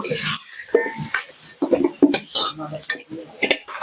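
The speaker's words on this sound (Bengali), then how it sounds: "আলু ভাজা হয়ে গেছে এবার আলুগুলো আমি তুলে নেব" Fried potatoes being lifted out of a hot pan, close clinks and scrapes of a utensil against the metal pan in quick irregular bursts.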